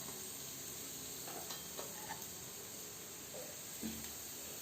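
Hot oil and masala sizzle faintly in a pan while chicken thoran is cooked, a soft, steady hiss broken by a few light stirring clicks, with no voices.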